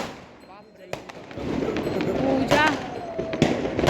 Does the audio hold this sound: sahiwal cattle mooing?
no